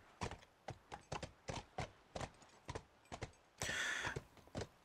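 Hollow, evenly spaced clip-clop hoofbeats of a horse in the video game The Last of Us, in a steady trotting rhythm, close and fairly quiet, with a brief burst of brighter noise partway through.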